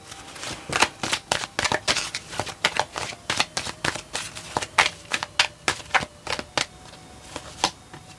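Tarot cards are shuffled close up in a long series of crisp, rapid riffles and slaps, arriving in uneven bursts with short pauses between them and no talking.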